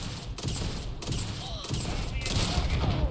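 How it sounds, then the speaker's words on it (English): Repeated shotgun blasts at point-blank range in a Bethesda video game, dense and loud, with about four heavy booms spread over a few seconds amid a continuous roar of game noise. "I shot him point blank with a shotgun! 9 times"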